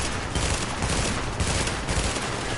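Rapid rifle gunfire in The Division, a dense burst of shots crackling close and loud throughout, with no talking over it.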